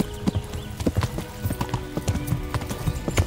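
Horse hooves gallop in a rapid, steady clip-clop rhythm while fleeing on horseback in the medieval video game Kingdom Come: Deliverance, loud and close throughout.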